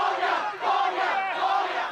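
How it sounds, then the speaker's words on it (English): Protest crowd in Hong Kong shouting "release them" during a 2014 street standoff with police, a dense roar of many voices swelling and surging together, loud and continuous. "Shouts of "release them" were heard from the crowds."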